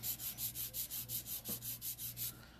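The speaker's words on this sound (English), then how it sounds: "how does it feel like when I'm filing with this file?" A metal nail file scrapes across fingernails in quick, even back-and-forth strokes, about a dozen soft rhythmic rasps heard up close in a quiet room, fading at the end.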